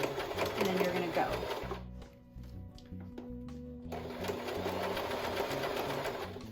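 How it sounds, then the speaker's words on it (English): A sewing machine stitches a fabric scrunchie in two close runs, its rapid mechanical whir pausing briefly for a backstitch with a few soft clicks before whirring on again. "You're gonna start sewing, you're gonna back stitch, and then you're gonna go."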